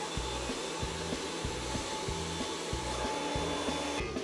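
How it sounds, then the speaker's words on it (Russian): A hair dryer blows with a steady, close whoosh, a low pulsing flutter repeating underneath the airflow the whole time. "Вы берете фен, топите ее прямо на руках."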